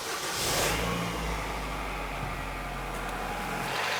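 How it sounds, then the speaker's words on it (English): A Nissan Versa engine turns over and settles into a steady, low idle nearby after fuel injector replacement, with a brief rev near the start. "Now I can go ahead and start the vehicle."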